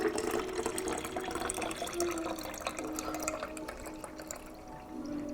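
Cold brew coffee pours steadily into a mason jar, a continuous close splashing and trickling that runs for several seconds without a break.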